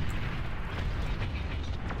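Plasma cannons in the real-time strategy game BAR fire in a dense, continuous battle roar of overlapping booms and bursts, loud and unbroken throughout.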